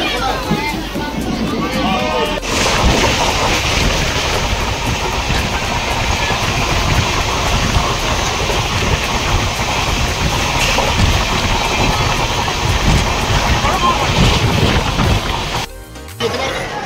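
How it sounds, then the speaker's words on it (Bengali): The Tamralipta Express 12857 runs from Howrah toward Digha, with a continuous loud rumble and clatter heard from inside the carriage, a short pause near the end, and people talking over it. "ট্রেন আমাদের ছেড়ে দিয়েছে হাওড়া স্টেশন থেকে।"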